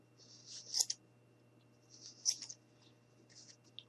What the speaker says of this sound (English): you're just going to take your scissors and you're just going to cut it